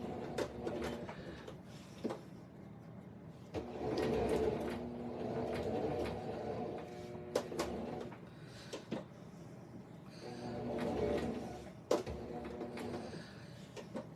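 A Singer Start 1304 sewing machine stitches fabric in several bursts of close, rapid mechanical whirring and clatter, separated by quieter pauses with small clicks and handling noises.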